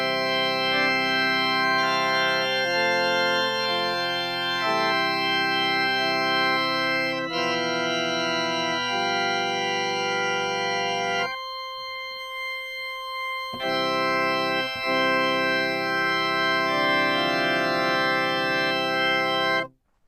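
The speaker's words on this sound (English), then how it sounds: "If we combine the mixture with all the principals in the great, it's going to sound like this." A pipe organ, an American Classic instrument after Schlicker, plays chords with the mixture combined with all the great principals, bright and full, one short pause midway, then the chord returns and cuts off at the end.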